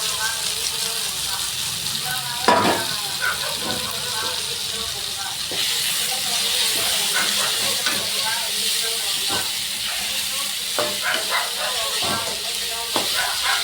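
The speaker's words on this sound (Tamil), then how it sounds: "நல்லா இஞ்சி பூண்டு பேஸ்ட்டு வாடை இதாகட்டுங்க. நல்லா வதங்கட்டும்." Ginger garlic paste sautés in a hot pan, a continuous hissing sizzle with occasional stirring clicks, while a person talks over it.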